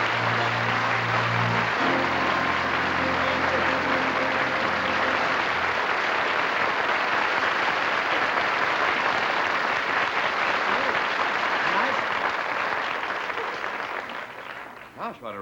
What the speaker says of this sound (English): Do all your guests get that much applause?